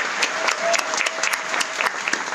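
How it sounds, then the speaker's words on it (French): Audience applause at a French presentation event for members, steady dense clapping across the whole stretch with no talk over it. "je vous invite vraiment à applaudir cette authenticité"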